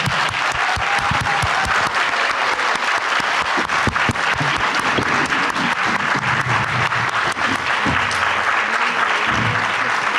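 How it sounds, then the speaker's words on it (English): Applause after a 2018 debate for the 87th District state representative seat, steady and dense from a full audience, continuing loudly throughout with a few faint voices underneath. "And now we can really applaud."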